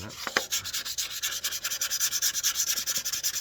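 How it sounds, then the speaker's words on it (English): Sandpaper rubbing by hand against a spinning wooden dish on a lathe, a steady rhythmic hissing scrape pulsing quickly and evenly, close and moderately loud with no talking. "I do want to sand right there a little bit. Hand sanding."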